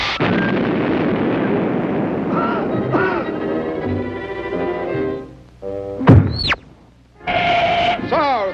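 A cartoon cannon fires one sharp, booming shot after a stretch of lively voices, followed by a quick whistling sweep and a short burst of sound.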